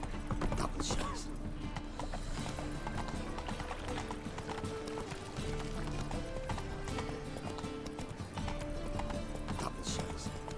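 A horse galloping in The Witcher 3: Wild Hunt, a steady rapid clatter of hooves that runs the whole time over a busy game soundscape, with brief louder bursts near the start and end.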